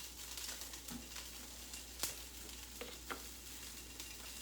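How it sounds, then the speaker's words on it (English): Asparagus coated with oil, salt and pepper sizzles in a pan with a constant soft frying hiss, broken by occasional small crackles and pops, with no talk. "That's got a nice sizzle."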